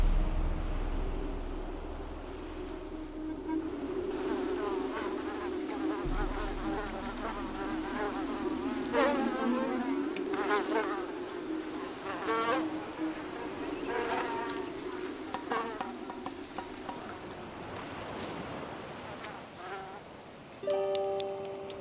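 Mosquitoes whine and buzz steadily around mudskippers on a Malaysian tidal mudflat at low tide, a close, continuous insect drone with faint wet clicks and ticks.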